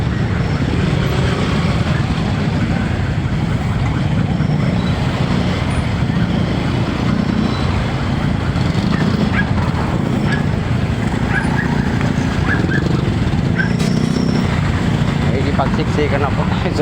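Dense, heavy road traffic with a continuous loud roar of engines and vehicles close by, faint horns and mechanical whines above the rumble, and no talking.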